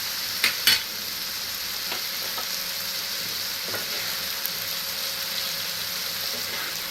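Paneer frying in a pan gives a steady, soft sizzle, with a couple of sharp utensil clinks near the start and occasional light scrapes of stirring.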